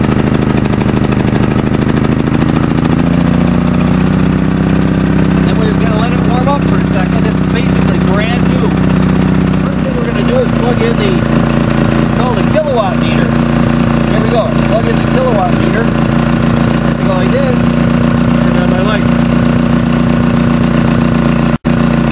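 A Generac iX2000 2000-watt inverter generator starts and settles into a steady idle, its drone shifting pitch partway through as the load or throttle changes; someone talks over the running engine.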